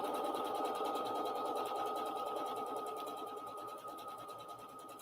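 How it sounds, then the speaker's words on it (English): A Bernette B79 sewing machine runs a wave stitch, its motor giving a steady, close, rapid whirring hum with an even stitching rhythm that tapers slightly toward the end, with no talking. "sew that wave stitch."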